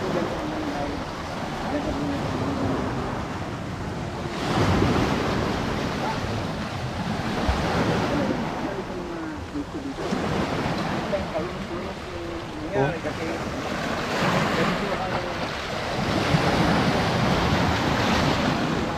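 Ocean waves breaking on a shore in rough surf, repeated roaring crashes swelling and receding every few seconds amid steady wind noise buffeting the microphone.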